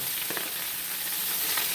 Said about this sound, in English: Now you're going to stir it around until it wilts and it gets its color